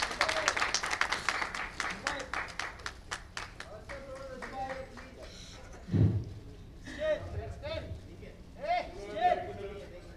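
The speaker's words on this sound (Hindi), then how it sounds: "एक जोरदार तालियां हो जाए" Audience at the Dadasaheb Phalke Excellence Awards 2017 gives a brief burst of clapping that quickly thins into a few scattered claps, followed by a thud and someone talking on stage.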